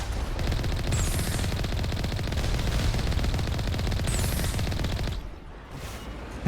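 Rapid automatic turret gunfire in the video game Mass Effect, a loud, continuous stream of shots that runs for about five seconds before cutting off, with no talking.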